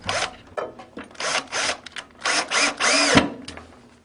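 A power driver sinks screws into a Rev-A-Shelf pullout wood pantry shelf in several short, loud whirring bursts separated by brief pauses.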